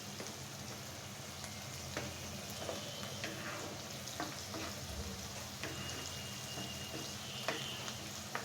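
Food fries in a pan with a continuous soft sizzle and crackle, with occasional small scraping taps from stirring, heard close and steady throughout.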